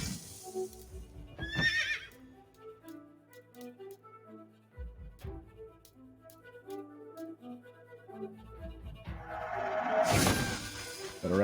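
A horse whinnies in Assassin's Creed Valhalla at a stable, with game music and hoof clatter; the neigh comes as short bright bursts near the start and again loudly near the end.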